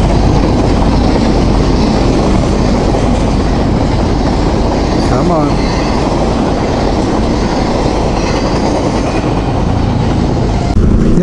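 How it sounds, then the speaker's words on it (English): Long freight train rolling past close by in open desert, a continuous loud roar and rattle of wagons with faint wheel squeal, and a brief spoken remark near the end. "Same train, still going."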